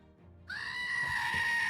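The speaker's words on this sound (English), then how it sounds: "Here's the Goat Scream" A goat scream sound effect from a video game, a single loud, harsh, sustained bleating cry that bursts in after a brief quiet start and holds strained and nasal to the end.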